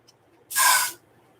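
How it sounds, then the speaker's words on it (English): A single close burst of WD-40 silicone aerosol spray hisses onto cups for paint pouring, lasting about half a second, loud and steady before cutting off. "So I'm spraying my cups with the WD-40 silicone spray first."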